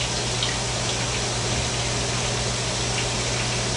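Steady running water filling a cold water bath, a constant dense hiss and gush with a low pump-like hum underneath, unbroken and fairly close throughout.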